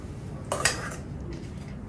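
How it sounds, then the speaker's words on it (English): A utensil clinks against a bowl once, a short bright scrape and tap, as strawberry puree is stirred into cream, against quiet room noise. "So now we're going to add the strawberry puree to the cream."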